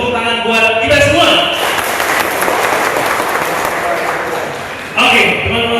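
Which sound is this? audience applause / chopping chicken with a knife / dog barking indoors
audience applause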